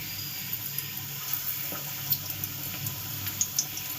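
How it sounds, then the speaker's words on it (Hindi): Pakoras fry in hot oil in an iron kadhai, giving a loud, continuous hissing sizzle dotted with small crackles and pops, with no speech. "तो हमारा ऑयल गर्म हो चुका है। अब हम इसमें अपनी पकौड़ियों को डालते हैं"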